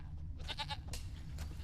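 Goats bleat in a medieval fantasy world from The Witcher 3: Wild Hunt, with a couple of wavering, nasal cries heard at moderate distance over a low game ambience.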